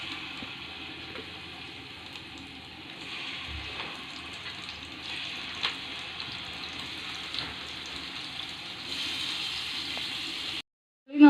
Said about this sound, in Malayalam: നന്നായിട്ട് തിളച്ച് വന്നിട്ടുണ്ട് കേട്ടോ